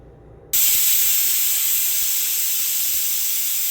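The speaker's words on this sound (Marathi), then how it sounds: "कुकरच्या आता 3 शिट्ट्या घेऊन घेणार आहोत." A pressure cooker cooking daliya khichdi lets off its whistle. After a brief quiet moment, a loud, continuous rush of hissing steam bursts in and holds steady to the end.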